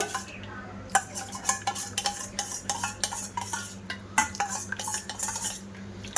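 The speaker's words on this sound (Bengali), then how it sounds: "যে চালের পেস্টটা আমি রেখেছিলাম দু চামচ মতো ওটা দিয়ে দেব এর মধ্যে দিয়ে বেশ ভালো করে মিশিয়ে নেব" A spoon stirs rice paste into cow's milk in a bowl for caramel bhapa pitha, making close, quick clinks and scrapes against the bowl in an uneven, busy rhythm.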